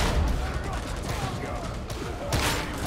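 Rapid bursts of gunfire in the video game Darktide crackle continuously, loud and close, with dense overlapping shots and a sharper volley near the end.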